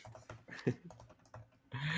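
Keys tapped on a computer keyboard in a quick, irregular patter of soft clicks, fairly faint, ending in a louder burst of busier noise.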